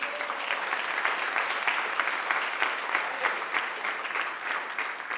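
A church congregation applauds during a sermon, producing a continuous, even wash of many hands clapping that holds steady at a moderate level throughout, with no voices on top.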